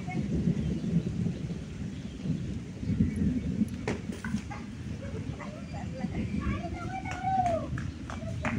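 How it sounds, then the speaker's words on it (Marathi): Low thunder rolls and rumbles in a storm with rain, heard outdoors with faint bird calls and children's voices in the background. "ढगांचा गडगडाट चालू आहे।"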